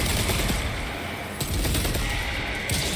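Dense, loud gunfire from the video game Warhammer 40,000: Space Marine 2 keeps up a constant rapid roar of shots and impacts for the whole stretch, with no pause.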